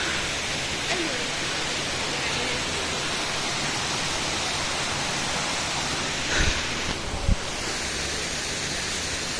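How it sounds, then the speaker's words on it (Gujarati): A mountain stream on a hillside temple trail rushes steadily, an even, full wash of flowing water close by, with a couple of brief knocks near the end. "ઝરણું"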